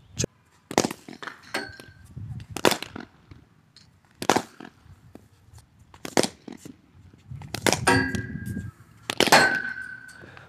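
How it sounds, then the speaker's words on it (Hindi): A cricket bat hitting half-volley balls in front-foot drives, heard as about seven sharp, ringing cracks spaced a second or two apart, with some low rustling and a faint voice in between. "आपने अभी एक छोटा सा वीडियो क्लिप देखा इसमें बैट्समैन ने सारे फ्रंट फुट ड्राइव्स खेले हैं"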